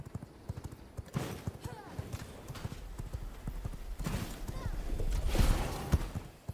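A vampire horse gallops in V Rising, its rapid hoofbeats clip-clopping steadily and growing louder, with a brief whinny and game ambience around it.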